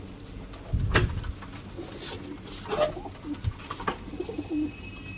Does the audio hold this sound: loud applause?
no